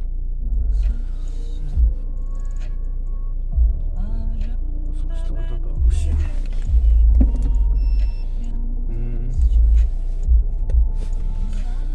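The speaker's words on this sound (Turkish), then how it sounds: "Arabayı çalıştırıyoruz." A car engine starts and runs, giving a low steady rumble with several louder throbbing surges as it revs, close by inside the vehicle.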